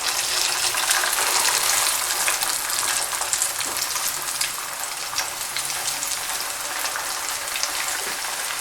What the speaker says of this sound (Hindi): अब इसको हम तेज़ गर्म ऑयल में इसको डीप फ्राई करेंगे